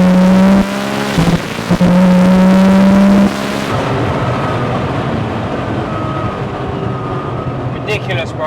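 A 1900 hp Nissan GTR engine roars hard under acceleration on a public street, heard from inside the car with a loud droning tone that shifts pitch and then settles into a rough, sustained rumble.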